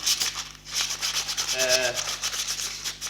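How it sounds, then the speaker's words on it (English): Steady rhythmic scraping of sandpaper rubbing back and forth over the wooden edge of a tissue-box ukulele, close up, with a faint hum underneath. "sanding the edges, make it all smooth and tidy"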